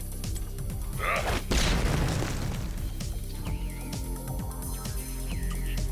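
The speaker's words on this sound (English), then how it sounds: "Frag Grenade is also a very efficient way to clear out minion waves" Frag grenade blast in Heroes of the Storm, a loud booming explosion with a crackling burst that fades, surrounded by game effects and chiming tones.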